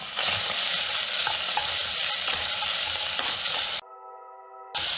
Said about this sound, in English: Now I'm going to add the onion and saute these